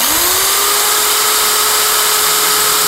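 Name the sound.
electric drill spinning up a flywheel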